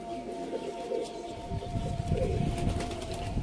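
Pigeons kept by a fancier in Sialkot coo softly in a low, rolling murmur, mid-distance and continuous, over a faint steady tone and light background noise.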